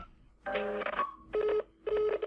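Three telephone keypad tones sound as the 2 key is pressed on an automated company phone line, a longer tone followed by two short, evenly spaced beeps, clear and close with no speech.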